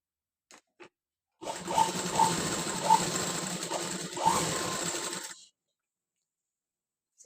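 A sewing machine stitches canvas onto a blouse piece in one continuous whirring run of about four seconds, close and moderately loud, preceded by a couple of faint clicks and then stopping.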